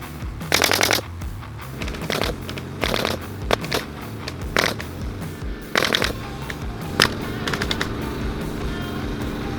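An air-powered construction stapler fires staples in irregular bursts of sharp, rapid snaps, each followed by a hiss of air, close and loud with short gaps between shots.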